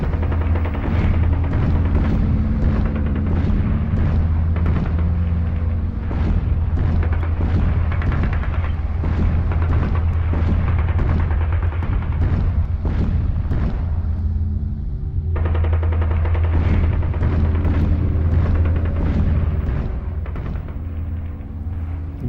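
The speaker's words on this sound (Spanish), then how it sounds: "Ya se divisan desde el Alcázar las explosiones de los cañones de los nacionales." Dense, rumbling bursts of heavy artillery cannon fire and explosions pile up continuously, loud and close, with a deep constant drone underneath, heard from the Alcázar of Toledo.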